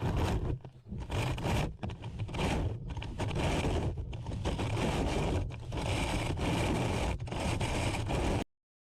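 A vintage Monta push mower is shoved through grass outdoors, giving a steady loud scraping, whirring rush with brief dips between pushes, close to the microphone with some wind.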